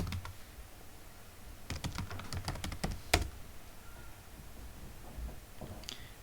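Quick bursts of keystrokes clatter on a computer keyboard, close and moderately loud, a run of irregular clicks in the middle with a few scattered taps before and after, against a quiet room background.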